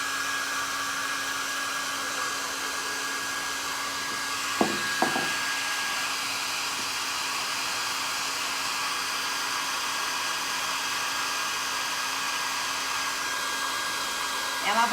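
A hair dryer blows on painted craft petals, giving a constant close whir that runs steadily throughout, broken only by a couple of faint knocks, with no talk.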